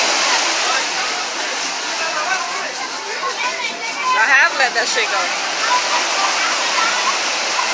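Ocean waves wash in steadily at a beach, a loud continuous rushing surf with splashing swells, while people talk over it.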